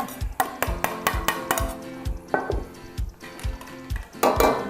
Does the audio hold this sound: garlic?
yes